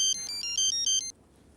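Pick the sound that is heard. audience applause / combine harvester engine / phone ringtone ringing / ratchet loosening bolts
phone ringtone ringing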